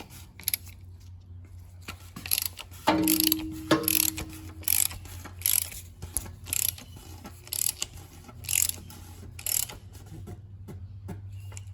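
Ratchet wrench tightening an oil filter cartridge on a Hyundai ix35 CRD diesel, heard as bursts of rapid clicking pawl strokes separated by short pauses, close and moderately loud over a low steady hum.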